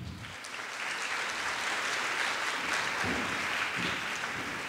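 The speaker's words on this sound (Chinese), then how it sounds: "接下来我们大家以热烈的掌声来欢迎他们上台。" Audience applause welcoming two speakers onto the stage at a talk event, a steady wash of clapping that swells after the first second and holds loud and even throughout.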